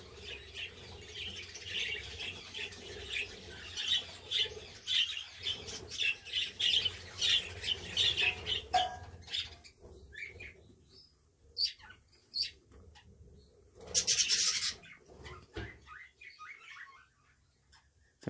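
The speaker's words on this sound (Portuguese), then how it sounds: "Nesse ninho aqui temos mais três filhotes, bem grandão também." Three large budgerigar chicks in a nest give bursts of scratchy squawks and chirps, close but quiet, with pauses and rustling between calls.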